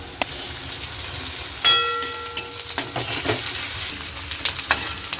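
Minced garlic with chillies sizzling and frying in hot oil in a kitchen pan, a steady crackling hiss broken by stirring clatters and a brief scrape.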